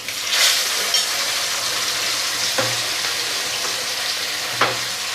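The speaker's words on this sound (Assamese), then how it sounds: "এতিয়া মাছখিনি ইয়াতে ফ্ৰাই কৰিম" Fish frying in mustard oil in a wok, a steady crackling sizzle throughout with occasional louder pops and stirring clatter, close and without voices.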